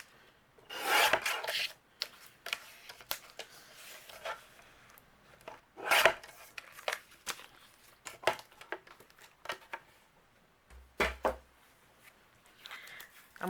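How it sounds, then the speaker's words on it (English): Micro dot paper sheets are trimmed down to card-panel size in quiet, intermittent bursts of rasping, scraping strokes separated by soft handling rustles. "I'm going to trim down my micro dot sheets so I can fit them behind an A2 panel"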